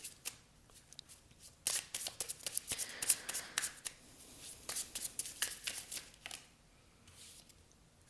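Tarot cards are shuffled and drawn by hand, with quiet close riffles, flicks and soft snaps in irregular bursts.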